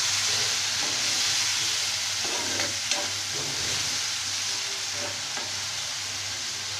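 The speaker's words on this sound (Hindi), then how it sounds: "और चलाते रहेंगे इसको।" Tomato paste with Kashmiri chilli frying in a pan, a steady, loud, close sizzle with occasional scraping stirs and a light clink, no talking.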